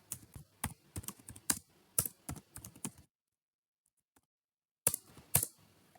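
Close, crisp computer keyboard typing in quick irregular bursts of keystrokes, pausing in silence for a couple of seconds before a few more taps resume.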